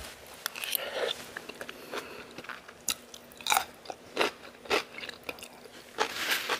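Bites into a crunchy salad with pretzels, onion and honey mustard, heard as a series of crisp, close crunches and chews in an irregular rhythm, with no talk.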